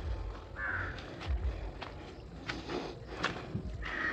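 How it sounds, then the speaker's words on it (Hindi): Crows cawing around an old stone fort at dusk: several harsh caws at moderate distance over faint footsteps and low rumbling, with no speech. "कौवे बोलने शुरू हो गए"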